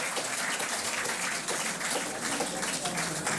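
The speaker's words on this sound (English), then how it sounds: "May I please ask that we give a deserving applause" Audience applause fills the room at an International Women's Day celebration, a dense, even wash of many hands clapping continuously at moderate loudness.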